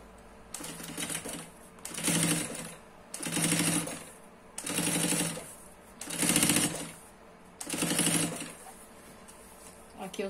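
A sewing machine stitches a seam on a fabric diaper-changing pad, running in five or six rhythmic bursts of rapid mechanical clatter with short pauses between, close and fairly loud.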